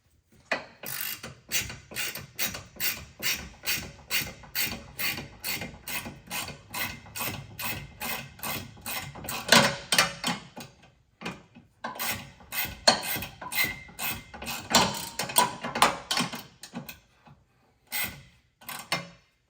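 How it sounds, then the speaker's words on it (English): A 15 mm wrench tightening the fuel tank bolts on a Dodge Ram, a steady run of close ratchet clicks in quick bursts with short pauses between strokes, with no talk. "So I just used a 15 millimeter wrench here."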